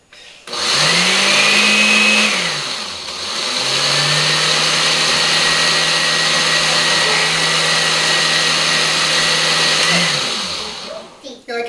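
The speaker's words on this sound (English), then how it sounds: "Now, I don't know that this mini processor is going to make this any creamier" A mini food processor whirring through green onion dip in two loud, steady runs, the motor spinning up, dropping briefly, then running on before stopping, close by.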